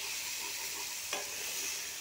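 Masala-coated potatoes stirred in a pan for an Odia coconut vada curry, a steady soft sizzle with one brief scrape of the spatula midway, close and alone.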